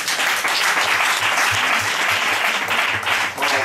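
A church congregation in Cotonou claps for Jesus during a dowry ceremony, steady dense applause from many hands, close and loud throughout without a break.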